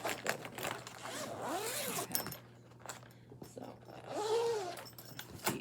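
A zipper on a fabric storage bag rasps in short strokes close by amid rustling and handling of the bag.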